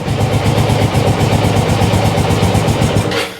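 A car engine revs unevenly while warming up after a hard start, a loud steady mid-range drone with pulsing firing rhythm that cuts off abruptly near the end.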